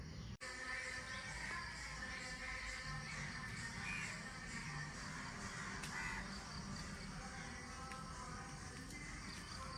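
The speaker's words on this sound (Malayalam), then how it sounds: "ഒരുപാട് കാക്കകൾ വട്ടവിട്ട് പറയുന്നു" A large flock of crows caws continuously while flying overhead, a dense, steady outdoor chorus of overlapping calls, fairly faint and distant, with no talk.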